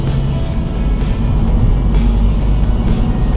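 A remapped Seat Leon FR 2.0 TDI diesel car, tuned to 201 bhp, drives along with a steady, loud low engine drone and road rumble that holds constant throughout.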